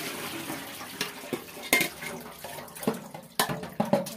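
Washed food and water being poured into a metal colander, a close splashing wash of water with clattering knocks and rattles of food and metal against the container.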